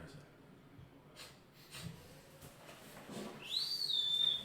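A person whistles a short, clear tune near the end, a rising note that levels into a steady tone, over quiet room ambience during a tabletop role-playing game session.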